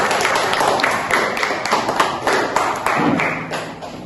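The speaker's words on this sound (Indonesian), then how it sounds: "Nah, tepuk tangan dulu untuk teman-teman" Students in a classroom clapping for their classmates, a scattered burst of hand claps and taps running steadily throughout with a busy room murmur beneath.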